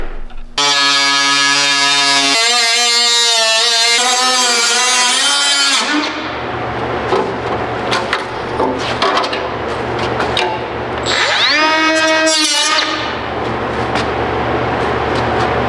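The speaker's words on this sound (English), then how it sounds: "so I'm going to try to taper with the grinder to make it look as pretty as we can" An angle grinder cuts into the front fender of a Mazda RX-7 FD3S to fit a Pandem widebody kit. A loud, high motor whine rises and falls, then settles into sustained, harsh grinding with another rising whine near the end.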